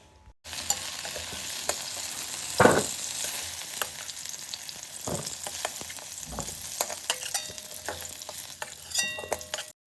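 Drumsticks and potatoes frying in oil in a pan and being stirred, a soft continuous sizzle with occasional scrapes and knocks of the spatula, fairly quiet and without talk.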